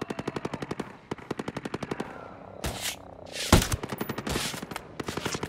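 Rapid bursts of automatic gunfire in the video game Ghost Recon Breakpoint rattle loudly, interrupted by a couple of heavier single blasts, then the firing resumes in quick repeated volleys.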